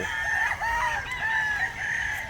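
A three-year-old White Kelso gamecock crows nearby, clear and fairly loud, with a few clucking notes from other fowl in the background.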